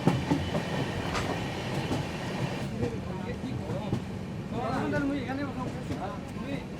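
The Kolkata–Sairang Express pulls into Krishnanagar with a steady rolling rumble and faint rail clatter while people talk nearby.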